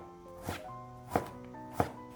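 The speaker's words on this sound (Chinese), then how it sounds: "最后切成小丁" Lettuce diced small with a knife on a board, three distinct close chopping thunks spaced about two-thirds of a second apart, faint and isolated.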